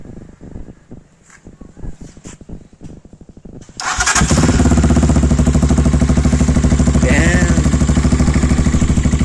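A Gamma 200 motorcycle engine with an open pipe and no silencer cranks, catches, and roars into a loud, raspy, unmuffled idle right up close.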